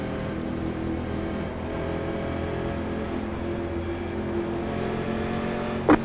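1987 NASCAR Legends race cars at Chicagoland in a simulated race, engines droning steadily as a field runs behind the pace car, with a brief sharp knock near the end.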